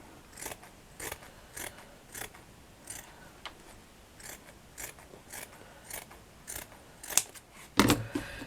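Scissors snip through thick craft padding material near the edge of a shabby chic flower plaque, about a dozen quiet crisp cuts in a steady rhythm, ending with a couple of louder close clicks.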